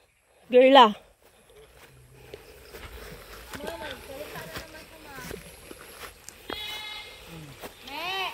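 A goat lets out one loud wavering bleat up close, followed by people talking and faint bleats in the background.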